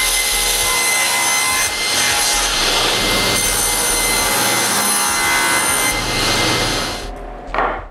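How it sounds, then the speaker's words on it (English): A saw cuts through plywood to size in a woodworking shop, a loud close steady rasping drone running for several seconds before stopping near the end. "The first thing I do is to cut the plywood to size."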